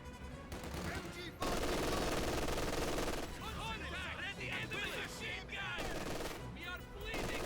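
An MG-34 machine gun fires in the video game Company of Heroes 2, with bursts of automatic gunfire mixed into a busy wartime battle soundscape with other weapons and explosions.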